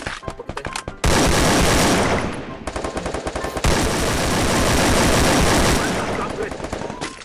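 Loud, dense automatic gunfire from the mobile battle-royale game Free Fire, long sustained bursts with rapid rattling shots and a brief pause near the start.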